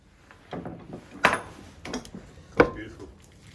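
A ball of taco dough is pressed flat in a tortilla press, with soft wooden knocks and thuds as the press is placed and closed, two sharper clunks standing out against a quiet kitchen.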